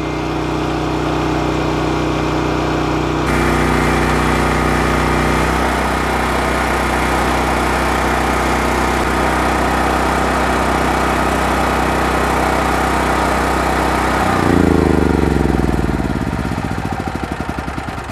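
A Westinghouse WGEN9500DF dual fuel generator runs with a loud, steady engine drone, shifts pitch partway through, then winds down as it shuts off near the end, with no talking.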